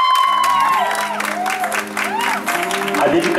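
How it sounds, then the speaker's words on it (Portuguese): Applause and cheering from a crowd greeting an honoree at a surprise celebration, loud and sustained with whoops and voices mixed into the clapping. "Uma salva de palmas para o nosso homenageado."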